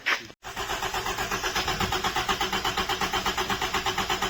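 A 1977 Honda Accord engine cranks over briefly, then catches and settles into a steady, rhythmic idle with a regular pulsing chug close by.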